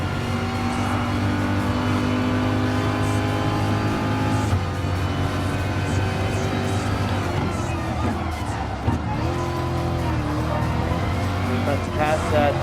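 A Corvette Gr.3 race car in Gran Turismo Sport's one-hour Le Mans race howls close by, its engine note climbing and falling through gear changes, with a voice talking over it.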